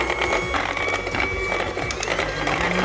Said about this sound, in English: Start mixing on low.